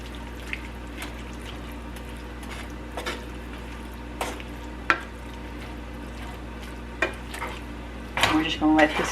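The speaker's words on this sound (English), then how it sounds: "So let me go ahead and give this a stir." Ground beef frying in a pan for Mongolian noodles, a soft steady sizzle broken by several sharp scrapes and clinks of a utensil stirring, with a louder clattering burst of stirring at the end.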